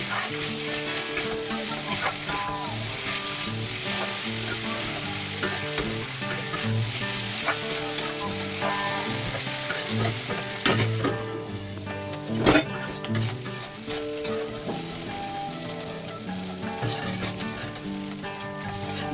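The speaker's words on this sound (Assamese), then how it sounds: "ঢাকনিখন লগাই দি মই অকণমান টাইম এনেদৰে ফ্ৰাই কৰি যাম।" Mushrooms frying in a covered pan give a steady, even sizzle with small crackles, close and continuous, with no talking.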